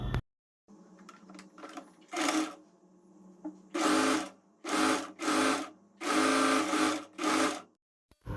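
A sewing machine stitches a sleeve hem on an old silk saree in several short, close bursts of whirring, separated by quiet pauses and small handling clicks.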